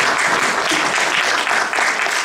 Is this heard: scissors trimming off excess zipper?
no